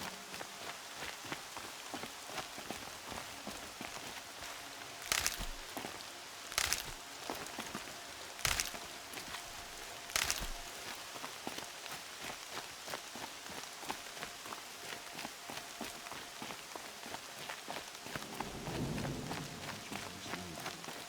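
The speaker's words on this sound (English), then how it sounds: "More rain." Steady rainfall in the video game Horizon Zero Dawn, a dense hiss of drops on surfaces with several louder bursts and splashes, continuous throughout without speech.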